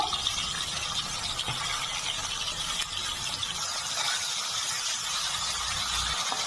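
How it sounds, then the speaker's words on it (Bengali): Duck eggs frying in hot oil in a kadai give a steady, close sizzle and hiss that runs unbroken and fairly loud throughout, with faint clinks underneath. "তেলটা গরম হয়ে গেছে, ডিমগুলো দিয়ে দিচ্ছি। ডিমগুলো হালকা করে ভেজে নেব।"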